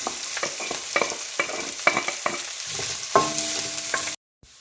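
Ginger, green chili and onion fry in a pan as a spoon stirs them. Repeated scraping strokes cut through a steady sizzle, loud and close, before the sound stops abruptly into silence.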